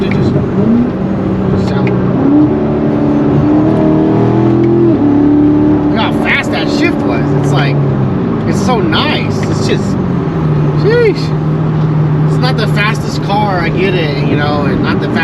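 Chevrolet Corvette C7 V8 engine revs and burbles through downshifts, with rising and falling engine tones close by. People talk over the engine throughout.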